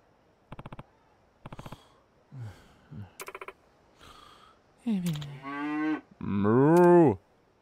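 In the game Like a Dragon: Infinite Wealth, Kasuga imitates a cow with drawn-out voiced moos, clear and close, after a few short clicky sound effects and brief murmurs.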